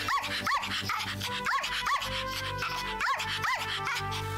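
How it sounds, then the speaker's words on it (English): Several sharp dog barks in quick bursts, spaced irregularly, close by over a low steady background hum. "Isn't that Miss Lark's dog?"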